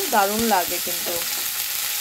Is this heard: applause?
no